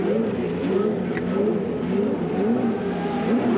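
A CART race car engine, at the 1991 Long Beach street race, revs steadily and loudly as the car pulls away from a pit stop, a continuous droning roar filling the whole moment.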